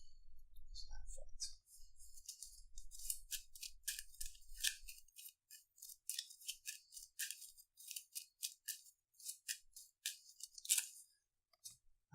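Arkham Horror game cards are shuffled up close and quietly, in rapid crisp riffling bursts and papery flicks that repeat in clusters, with a soft low rumble in the first few seconds.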